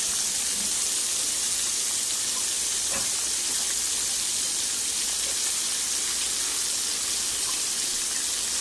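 Oil heating in a pan while chicken and salmon are being cooked gives a steady, even sizzle and hiss that carries on without a break at low volume, with no voices.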